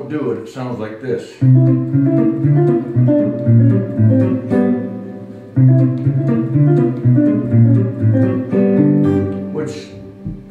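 A turnaround played on guitar, a busy, rhythmic fingerpicked passage with a galloping feel, loud and close, running for about ten seconds with a brief break.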